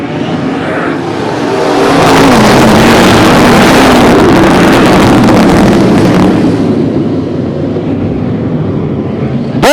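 Race cars roaring past at Cotton Bowl Speedway after the green flag, a loud sustained engine roar that swells and holds for several seconds, then fades.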